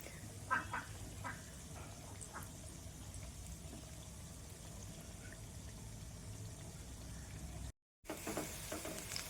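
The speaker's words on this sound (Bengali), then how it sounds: "ভাজা আমার মোটামুটি হয়েই গেছে" Vegetable pakoras frying in hot oil give a faint, steady sizzle and crackle throughout, with a brief silent gap near the end and no talking.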